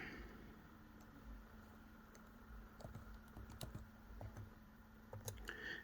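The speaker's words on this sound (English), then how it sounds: "Then you want to type in a username followed by your password." Keystrokes on a computer keyboard tap out a username and password as a steady run of light clicks, fairly quiet over a low background hum.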